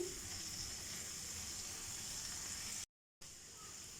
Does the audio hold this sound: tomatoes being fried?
yes